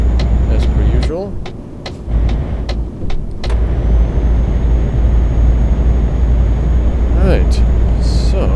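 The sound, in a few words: truck accelerating in the video game Euro Truck Simulator 2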